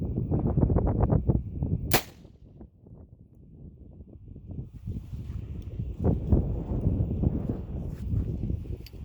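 A single sharp, loud gunshot of 7.62x25 steel core ammunition fired outdoors, standing out against steady wind rumble on the microphone before and after it, with no speech.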